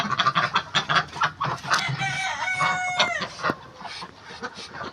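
Chickens and young fowl on a home poultry yard with ducks and pigeons, clucking and calling in quick busy bursts, one bird letting out a drawn-out crow-like cry midway, close and fairly loud.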